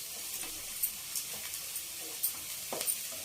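Green chillies frying in a pan for an egg fry give off a soft, steady sizzle with faint crackles and a few sharper pops, quiet and close, with no talking.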